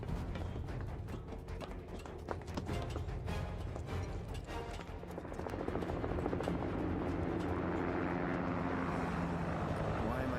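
Military helicopters in the Final Fantasy VII Remake Intergrade video game give a steady, loud rotor drone that thickens in the second half, blended with dense game noise.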